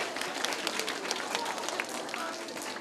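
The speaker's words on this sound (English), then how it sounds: "give yourselves a round of applause" Schoolchildren clapping for themselves at an elementary school music assembly, a busy rapid patter of many small hands filling the room, with some faint voices mixed in.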